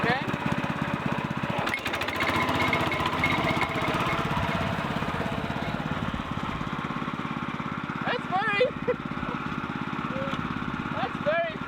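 Small tiller engine fitted with tractor wheels running in third gear, a loud steady broadband drone throughout with people talking over it.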